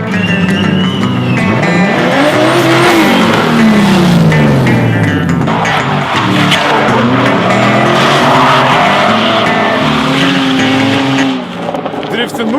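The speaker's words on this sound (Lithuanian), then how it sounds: "atsivežė mus biškį drifto treniruoti" A car drifting at a drift-training session at the Kopūstėliai base, its engine revving loud and continuous with rising and falling whines, sliding tyres squealing, and voices talking over it throughout.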